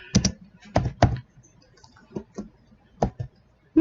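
Keys clatter on a computer keyboard in a few quick close bursts of taps, then scattered single presses, loud and near with no talking over them.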